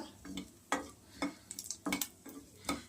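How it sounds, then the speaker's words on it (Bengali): Cumin seeds tempered in hot oil for a tangy tamarind chutney, giving intermittent bursts of close sizzling and crackling with light stirring and utensil clinks between them. "এবার আমি ফোড়ন দেবো চাটনিটা দেখতে থাকুন আপনারা"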